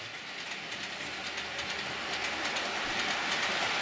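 A model train runs along track fitted with Hunts couplings, giving a steady rolling rattle with faint clickety-clack that holds at an even, moderately close level and grows slightly louder toward the end, with no voices.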